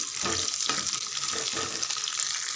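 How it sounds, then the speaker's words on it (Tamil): Okra sautés in a pan, a continuous close sizzle with occasional stirring scrapes, steady and moderately loud throughout with no voices. "வெண்டைக்காய் ஒரு அஞ்சு நிமிஷம் நல்லா வதங்கிட்டோம்"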